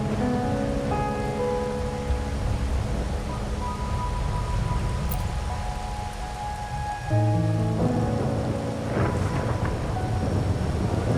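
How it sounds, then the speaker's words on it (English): Steady rain falls in the video game Wuthering Waves, a continuous hiss under sustained musical tones and a shift in the background score partway through. "My granddaughter told me Raguna's rain is a bad omen."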